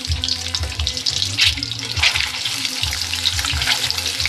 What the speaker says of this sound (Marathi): व्यवस्थित फ्राय करून घेते मी व्यवस्थित